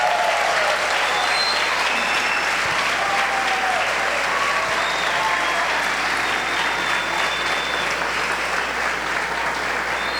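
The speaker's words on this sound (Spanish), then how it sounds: "Un aplauso para ellos." Sustained applause from a church congregation at a 65th anniversary celebration, steady dense clapping filling the whole stretch with a faint murmur of voices beneath.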